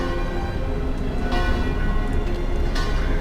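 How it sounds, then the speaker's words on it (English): Church bells ring steadily in the video game Frostpunk, their tones blending into a dense, constant wash of background noise. "I like the church that keeps ringing its bells"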